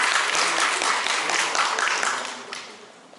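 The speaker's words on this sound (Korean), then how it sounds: "김주일 교수님 큰 박수로 모시겠습니다" Audience applause at a city greenway forum welcomes a professor to the podium, a broad, lively patter of many hands that gradually fades toward the end.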